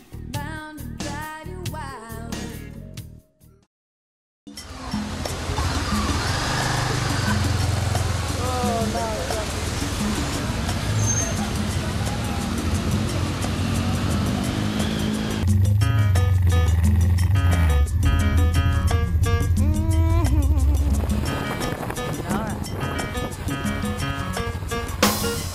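A 2013 Honda CB500 motorcycle ridden through town, its engine droning low and steady beneath ongoing narration, growing louder toward the middle before easing back.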